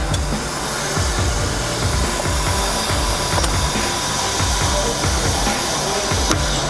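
A heavy-duty vacuum lifter for glass doors runs in a continuous loud broadband roar with a steady pumping pulse, unbroken from start to finish.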